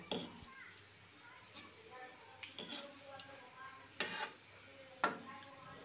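Gulab jamun are fried and gently stirred in a pan, giving faint scattered clinks and scrapes over a quiet, low sizzle, with a couple of sharper knocks of the spoon on the vessel.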